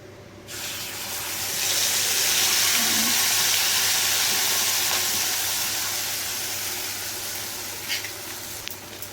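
Spice paste hitting hot ghee in a pan gives a steady broad hiss and sizzle that swells and holds for several seconds, close and loud, with no talking.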